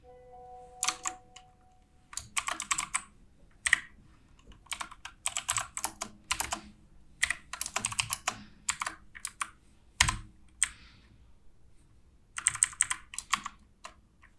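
Code typed on a computer keyboard while setting up Firebase for a Flutter app, clustered bursts of quick key clicks broken by short pauses, close and fairly quiet, with no talking.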